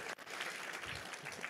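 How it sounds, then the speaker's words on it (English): Brief, faint applause from a gala audience at a cancer assistance program event, a soft, steady patter of clapping heard from a distance. "Let's give Gord a round of applause."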